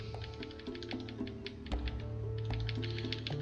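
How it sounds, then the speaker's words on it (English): Quick, crisp clicks from a new mechanical keyboard come in an irregular typing rhythm, close and fairly quiet, with no voice over them. "Don't know if you can hear my new keyboard, but I've got a new lovely mechanical keyboard at great expense."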